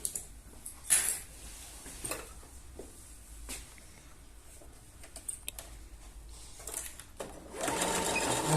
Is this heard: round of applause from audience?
no